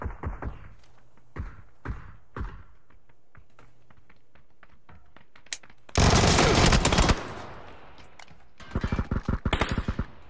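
Video game gunfire, with scattered single shots early on, then a loud sustained burst of automatic fire and a later rapid volley of shots, fairly close.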